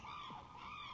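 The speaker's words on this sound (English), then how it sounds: "The goose eats grass and lives near a pond." Cartoon goose honk from a Curious George children's animal game, a single drawn-out call over a steady bright background tone, with no voices.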